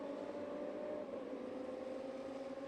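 Race car engines on a circuit during a racing highlights broadcast, a steady, fairly quiet droning whine held without a break, with no talk over it.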